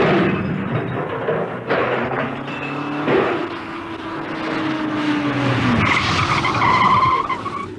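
Car tyres skid and screech in a staged radio drama effect, a vehicle careering over a cliff edge; a loud, sustained squealing slide with rough engine noise rising to a crash-like burst near the end.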